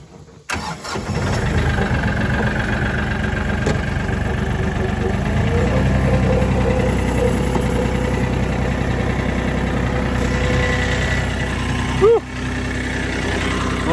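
A tractor engine starts up and then idles steadily nearby, a continuous mid-low mechanical hum with a brief clunk near the end.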